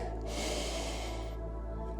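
A deep breath drawn in during a Pilates breathing exercise while kneeling with a rounded back, a close, airy inhale rushing in and then easing off, heard alone over a steady low hum.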